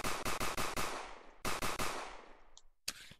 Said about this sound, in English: if I take the new Glock 18 and grab the magazine for it, set it to automatic